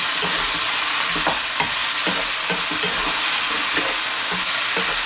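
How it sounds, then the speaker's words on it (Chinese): Zucchini, chicken breast and red pepper are stir-fried in a wok, with a loud, constant sizzle and regular rhythmic scrapes and tosses of a spatula against the metal. "再次给它翻炒均匀。"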